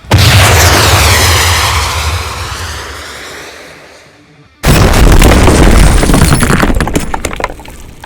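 A huge bazooka blast rings out and slowly decays, then a second sharp explosion bursts in, loud and close, followed by crackling debris.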